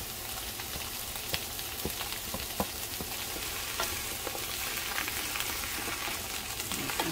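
Squash and chile sizzle in a hot pan, a constant dense frying hiss broken by occasional sharp pops and stirring clicks, close and steady throughout.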